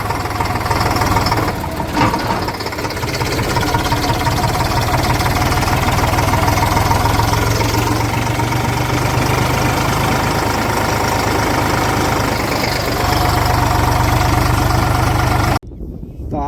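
A tractor engine idles steadily while fertilizer is loaded on a farm, a loud, close, rumbling and knocking drone that continues throughout, with a brief dip near the end.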